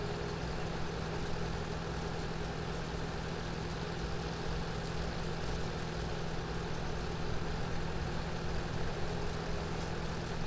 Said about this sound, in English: And soon the pickup tractor will follow.